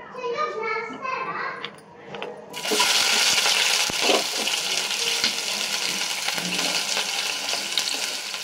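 Chopped onions hit a hot pan on the stove for fried onions, setting off a sudden loud, steady sizzle that continues throughout, after a few seconds of someone talking and children's voices in a home kitchen.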